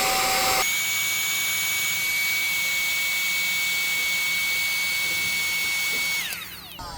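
A cordless dust blower from a figure-cleaning kit pumps air into an inflatable tube, its steady high-pitched whine running loud and alone for several seconds before winding down near the end.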